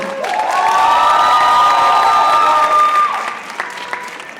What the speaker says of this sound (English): Guys, we need to cheer them up.